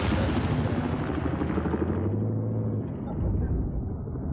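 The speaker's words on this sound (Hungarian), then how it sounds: "Ó, a helikopter!" A helicopter in the video game Battlefield 4, on the Zavod 311 map in Conquest mode, roars loud and close amid dense rumbling battle noise, then the high end thins out as it passes.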